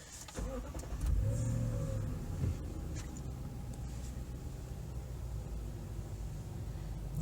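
A 2020 Lexus GX 460 engine starts with a quick crank and a brief rising rev, then settles into a steady low idle heard from inside the cabin.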